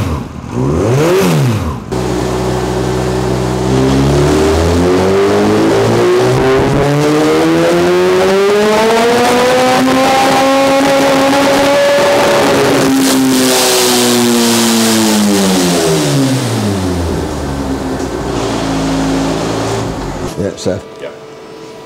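Supercharged Honda CB1000R motorcycle engine on a dyno, loud and close, revving steadily up through the gears to a high scream and back down over about twenty seconds, with brief blips at the start and end.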